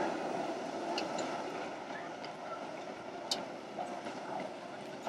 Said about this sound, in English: The trains that go up to the top